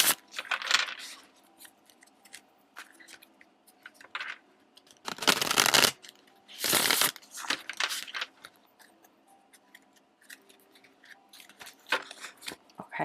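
Tarot cards being shuffled in a few short, loud bursts of riffling and flapping, with quieter handling and rustling of the deck between them; no talking.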